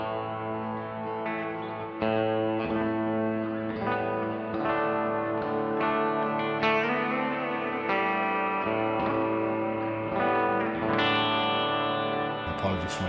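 An electric guitar played through a Line 6 HX Effects unit with reverb on rings out in sustained chords and notes, the tails washing into one another at a moderate level.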